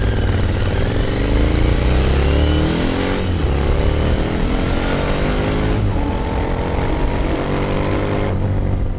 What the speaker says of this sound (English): It is the kind of engine that does not scare, but still shows some nervous temper, which delivers some fun to the ride.